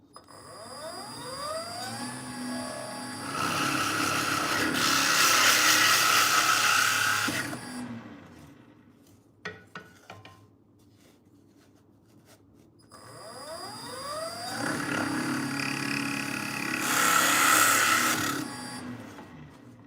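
A power drill whines up and grinds into wood twice, each burst building to a loud rasping bore, with a quiet gap and a few clicks between; the bit is clogged with debris and smoking.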